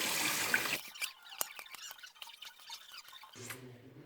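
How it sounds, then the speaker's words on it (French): Water runs and drips while the back of someone's hair is rinsed during a home bleaching session, first as a steady broadband rush, then as scattered splashes and drips close by, with a squeaky tone near the end. "je vais essayer de me rincer un peu le fond"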